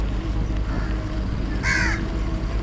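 A single harsh crow caw rings out partway through over a low rumbling background of engine and ambient noise, in Singapore.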